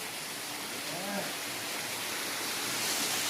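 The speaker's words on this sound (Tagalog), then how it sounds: "This is the waterfalls in Bislig, Surigao del Sur." Pinoy An Falls in Bislig, Surigao del Sur roars as a steady, broad wash of falling water that fills the whole clip, with a brief faint tonal sound rising over it.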